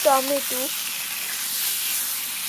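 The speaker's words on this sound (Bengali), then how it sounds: "মরিচ আর জিরাটাকে খুব ভালো মতো ভেজে নিয়ে এবার দিয়ে দিতে হবে মাছগুলোকে" Rui fish fries in hot oil with chili and cumin for a fish curry, producing a steady, close hiss and sizzle that carries on after a brief voice at the start.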